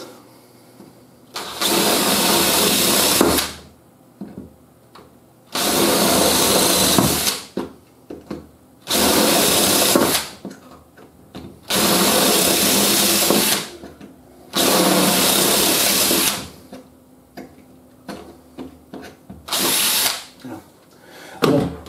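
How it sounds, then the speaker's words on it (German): A power drill with DeWalt HSS bits bores 4 mm holes in repeated bursts of about two seconds each, loud and close, with short quiet gaps between runs. "ist jetzt vor allem auch genau das Richtige, um die 4 mm Löcher hier zu bohren"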